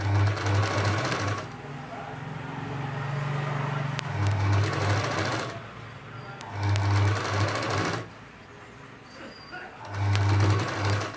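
A sewing machine runs in repeated bursts of top stitching on a dress, loud and close, each run lasting a couple of seconds with short pauses between.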